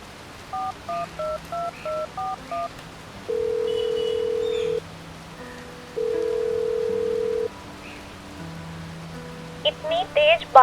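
Telephone keypad dialing tones, about eight short evenly spaced beeps, followed by two long steady ringback tones with a gap between them, clear and close against a quiet background, with faint rain-like patter near the end.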